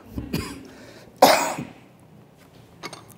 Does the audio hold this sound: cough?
yes